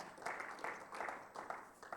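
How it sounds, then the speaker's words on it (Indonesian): Church congregation applauding during a Sunday service, a faint, distant patter of many hands in uneven waves. "Mari berikan tepuk tangan."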